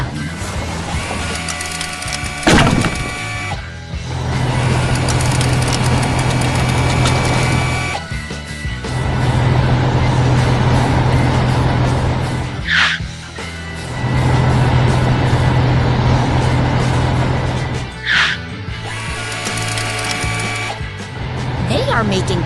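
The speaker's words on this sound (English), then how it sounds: "The loader scoops and the green dump truck catches." Cartoon construction machinery at work, a loader scooping debris into a green dump truck on a road clearing job, with steady mechanical engine drone and rattling clanks broken by short pauses and sharp hits, under light background music.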